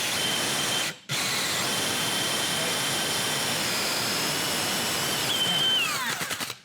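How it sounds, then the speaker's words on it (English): Power drill with a hole-cutting bit boring through a countertop for a drop-in sink, running steadily and loud close by, cutting out briefly near the start, then winding down in a rattling, stuttering finish. "So you can drill forward and then reverse to clean it off."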